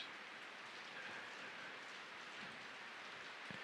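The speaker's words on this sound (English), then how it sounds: "you may hear the sound of the rain" Steady rain falls as a soft, continuous hiss with no distinct drops or pauses, faint and even throughout, with no voices.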